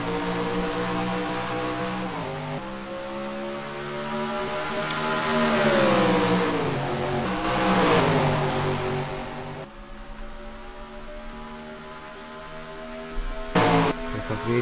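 Late model stock cars, mostly Chevrolets, roar back up to speed at a green flag restart at Rockingham. The sound is a loud, sustained multi-engine drone with rising and falling revs as the pack accelerates and passes.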